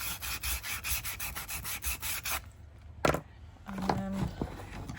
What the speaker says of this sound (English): sand that in.